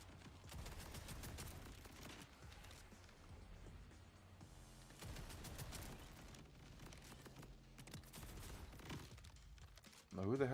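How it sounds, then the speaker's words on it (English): Gunfire aimed at the player in Borderlands 4, rapid bursts of shots and booming impacts rolling on and off across the stretch, fairly quiet in the mix, with a sharp louder burst at the very end. "who the hell is shooting that stuff at me?"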